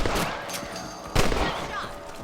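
A gunshot in the Red Dead Redemption video game: a loud, close blast near the start and another about a second later, each with a short echoing tail amid game ambience.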